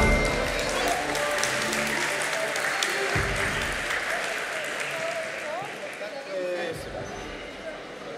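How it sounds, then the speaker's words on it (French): An audience at a gaming convention conference in Toulouse applauds steadily, with voices and crowd noise mixed in throughout and a few brief whistling tones. "Et on les applaudit bien fort."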